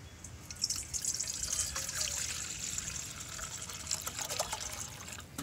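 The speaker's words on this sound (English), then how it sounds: "I'm just going to pour some in." Vinegar poured into a small container outdoors, a faint continuous trickling and splashing of liquid lasting several seconds with no talk.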